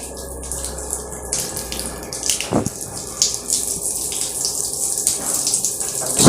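Strong, steady rush of water from an ablution tap fed by a booster pump in a bathroom, a continuous close hiss and gush with slight splashing throughout.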